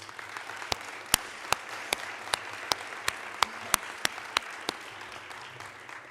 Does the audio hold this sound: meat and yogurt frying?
no